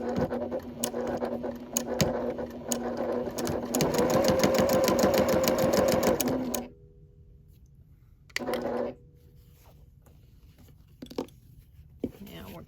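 A sewing machine runs a straight stitch at stitch length 3 through shirt fabric lining for a tote bag, with rapid rhythmic clatter in two bursts separated by a pause, followed by quiet handling clicks.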